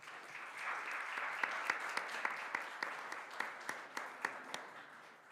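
Audience applause in a county legislature session chamber, steady dense clapping throughout with a few louder individual claps standing out near the end, moderately distant.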